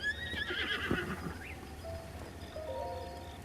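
A horse in the video game Zelda: Breath of the Wild gives a loud, rising whinny near the start, followed by a few soft hoof clops and quieter game sounds.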